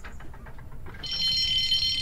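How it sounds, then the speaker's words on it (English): A loud, continuous electric alarm bell starts partway through and rings steadily to the end in a railway yard, with a brief flurry of shorter sounds before it. "Suddenly, the alarm bell echoed throughout the yard."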